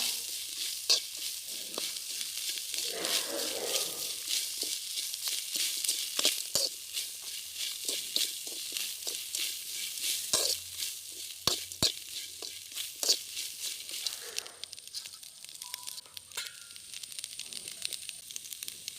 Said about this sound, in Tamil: கருவேப்பிலை, சின்ன வெங்காயம் எல்லாம் போட்டு நல்லா வதக்கிட்டு